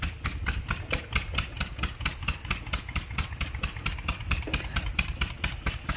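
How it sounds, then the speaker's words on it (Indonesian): A water irrigation pump motor runs steadily, a rapid, regular knocking engine chug that stays loud and close throughout without a break. "Tok tok tok tok tok, itu motornya sampai ke situ tuh ada pipa-pipa hitam."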